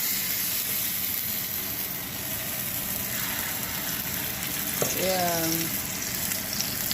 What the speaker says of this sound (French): Voilà, nous allons passer maintenant à la friture.